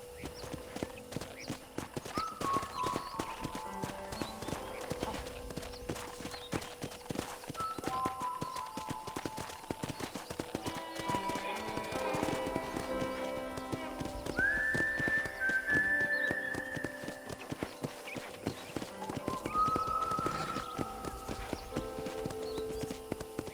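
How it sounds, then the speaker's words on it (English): Steady, rhythmic clip-clop of horse hooves walking on a ranch in the video game Red Dead Redemption, with occasional whistled tones over the top. "I picked out a fine horse for you."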